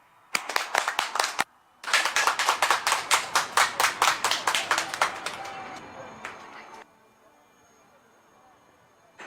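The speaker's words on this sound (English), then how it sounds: "Big round of applause to you, please." A crowd at an air show in Chennai claps in rapid unison, two bursts of rhythmic clapping, the second longer and fading out before a quiet stretch.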